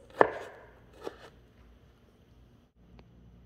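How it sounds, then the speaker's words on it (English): A knife dices tomato into small pieces for green chili with potatoes, a couple of soft moist chops against a board followed by quiet pauses and one faint tap, close and fairly quiet. "Here's my tomato. I'm dicing it into small pieces."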